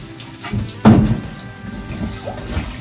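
Tap water runs and splashes close by while dishes are rinsed in a sink. A sharp burst of splashing comes early, then a steady, uneven trickle follows.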